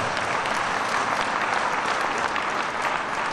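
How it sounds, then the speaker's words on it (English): Mourners at a funeral service applaud the standing veterans, a steady dense wash of clapping from a large crowd, loud and even for the whole stretch. "let's give the veterans who are standing here another big round of applause"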